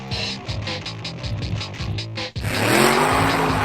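A Chevrolet Camaro SS V8 engine pulses through harmonic revs, then bursts into a louder, sustained roar with rising pitch, suggesting hard acceleration, close and loud without talk.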